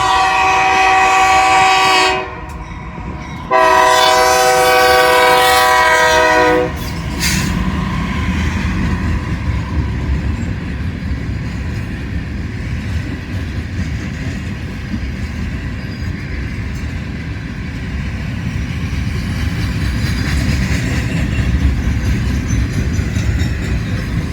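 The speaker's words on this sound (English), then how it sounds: "Comes the Indiana and Ohio with a loaded rock train." An Indiana and Ohio loaded rock freight train passes close by, opening with loud blasts of its horn, then a long steady rumble and rolling wheel noise of railcars going by, with no voices.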